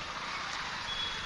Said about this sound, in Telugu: బీభత్సమైన ట్రాఫిక్ ఉంది ఫ్రెండ్స్